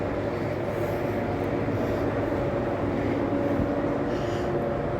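Steady low rumble of a London Underground tube train in motion, heard from the back carriage en route toward Uxbridge, a continuous close-up roar with no talk.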